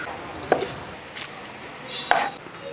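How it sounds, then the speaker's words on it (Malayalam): Raw plantain is chopped on a board for mezhukkupuratti, with two sharp, close knife strikes about a second and a half apart and quiet pauses between them. "മൂന്നാമത്തെ അതുകൂടെ ഒന്ന് അരിഞ്ഞെടുക്കട്ടെ"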